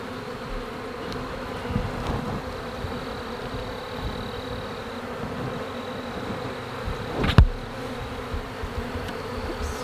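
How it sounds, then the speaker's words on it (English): Bees buzz as a steady, dense hum that goes on throughout, close to the listener. A brief louder thump breaks in near the end. "I just don't want to pinch a bee"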